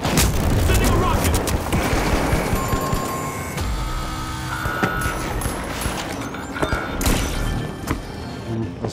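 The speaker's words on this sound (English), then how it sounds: "Sending a rocket." Rocket blasts and gunfire from the video game The Finals: repeated booms and sharp shots crackle throughout over dense, noisy battle ambience.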